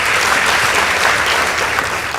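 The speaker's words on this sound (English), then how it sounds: "Please give them a round of applause." A school debate contest audience applauds the host team from Mama Ngina Girls High School with loud, dense, continuous clapping from a large crowd throughout.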